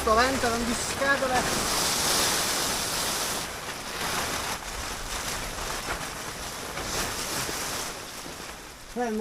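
Strong outdoor wind buffets the microphone in loud, steady gusts during work on a chicken coop, with a voice speaking briefly at the start and end.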